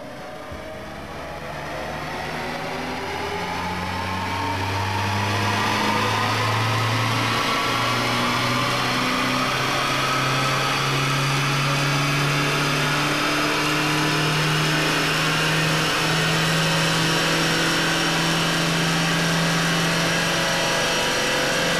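A diesel engine runs under a power test after a TechFlow ceramic treatment, its loud, steady drone building over the first few seconds and then holding with a slowly rising pitch, heard close up with no talking.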